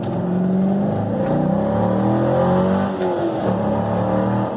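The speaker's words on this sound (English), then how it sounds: "the stock exhaust system isn't very loud unless you're at wide open throttle" A C5 Corvette's engine hums steadily through its stock exhaust, a mild, low note that stays fairly quiet and smooth throughout, no sharp revving peaks.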